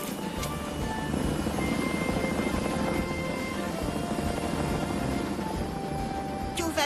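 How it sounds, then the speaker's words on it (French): An animated cartoon rescue helicopter from Fireman Sam drones steadily and loudly, its rotor hum and engine whine continuous for several seconds. "l'hélicoptère l'emmène à l'hôpital de Villeneuve."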